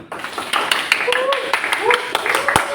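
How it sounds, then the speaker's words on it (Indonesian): Classmates clapping before a public-speaking speech, scattered claps from a small group, uneven and overlapping, with talking and voices mixed in over the short burst. "Tepuk tangan dulu"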